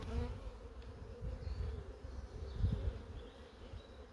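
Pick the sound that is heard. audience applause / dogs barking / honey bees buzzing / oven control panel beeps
honey bees buzzing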